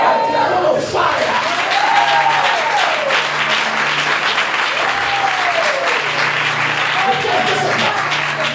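Church congregation applauding during a French-language sermon, a dense sustained wash of clapping with some cheering, loud and steady throughout, with a voice calling out over it.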